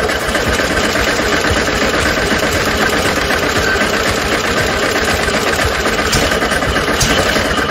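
A 1972 VW Super Beetle engine, not run in over 30 years, churns steadily and loudly throughout, a rough continuous mechanical rumble with rapid knocking pulses and no voices.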